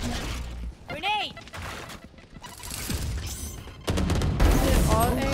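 Grenade blast and bursts of gunfire in an online shooter game, loud and chaotic, with ricocheting whistles and a heavy thump near the end, mixed with game sounds and a streamer's talk.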